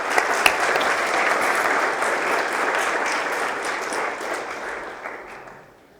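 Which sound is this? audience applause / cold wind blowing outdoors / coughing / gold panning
audience applause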